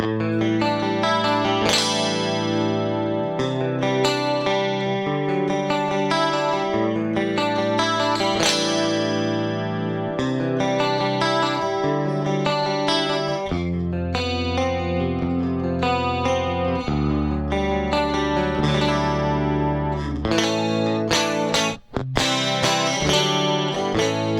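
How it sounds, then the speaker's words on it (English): Music played through the Fat Chorus preset of a Korg AM8000R rack unit, thick shimmering chords and melodic lines continuing steadily at even loudness, with a brief dropout near the end. "This is the second factory preset called Fat Chorus."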